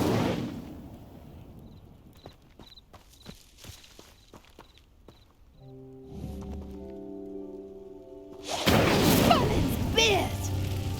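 In the video game Hogwarts Legacy, the Incendio fire spell is cast. Footsteps and light clatter come first, then a tonal magical shimmer, and a loud roaring burst of flame ends the sequence.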